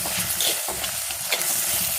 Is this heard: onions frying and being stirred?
yes